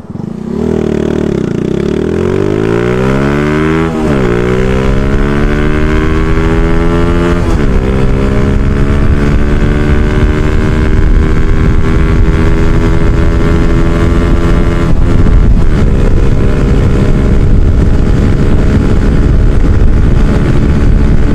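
Yamaha Jupiter Z1 motorcycle fitted with a Tsukigi aftermarket exhaust, stock ECU and camshaft, on a test ride: loud continuous engine roar climbing steeply through the gears with brief dips at each shift, recorded close, no talk.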